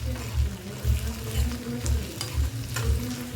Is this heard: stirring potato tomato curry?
yes